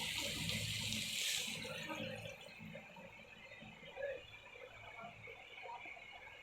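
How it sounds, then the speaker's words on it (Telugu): A loud rush of water pours into a cooking pan for over a second, then a softer, steady watery hiss carries on. "రెండు గ్లాసులు వాటర్ పోస్తున్నాను"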